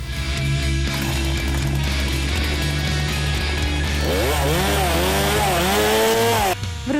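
A STIHL MS 261 C-M chainsaw engine running loud and steady, its pitch rising and falling as the throttle is worked, then cutting off abruptly near the end.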